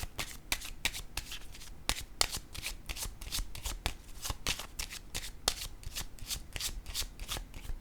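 Playing cards are shuffled and drawn in quick, crisp riffles and flicks, with a dense run of sharp papery snaps close to the listener and no talking.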